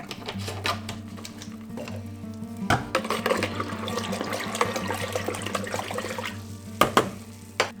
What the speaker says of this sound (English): I have 3 liters of water and I'm gonna put 75 milliliters of Rootguard